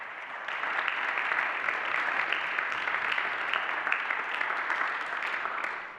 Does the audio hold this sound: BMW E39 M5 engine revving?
no